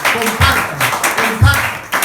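A church congregation applauds, a dense, steady burst of clapping that fills the space, with a voice carrying faintly underneath.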